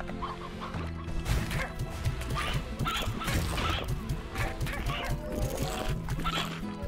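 Cartoonish chickens cluck steadily in the video game Slime Rancher, a busy, continuous flock of quick clucks and squawks layered over game music.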